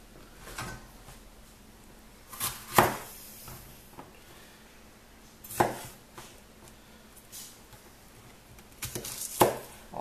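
Vegetables being sliced for a stir fry with a knife on a cutting board, a few distinct soft chops and thuds spaced several seconds apart over a low background hiss.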